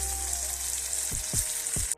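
Onions fry in a pan with a little panch phoron spice mix for a chicken curry, a steady close hiss of sizzling oil broken by a few soft thumps as the pan is stirred.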